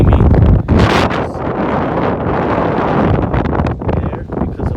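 Wind gusts hard across the microphone at an outdoor shooting range, a loud, constant rumbling buffet with rustling, and a faint voice underneath.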